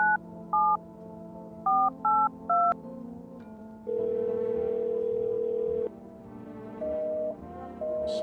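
Touch-tone keypad beeps from a neighbor call in a horror video game, several short tones in an uneven run followed by a long steady ringback tone and then more tones, clean and alone without voices.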